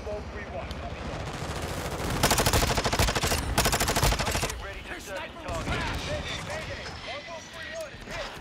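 Rapid automatic gunfire in a video game, bursts of loud close shots that swell into a dense volley midway, then fade to lighter scattered fire, with a voice talking over the action.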